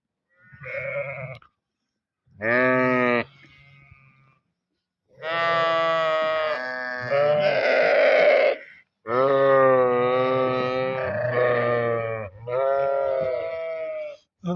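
Loud, close bleats from a sick sheep in a village, long wavering calls one after another with brief pauses between them, sounding alone without talking.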